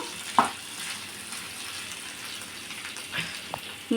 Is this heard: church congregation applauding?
no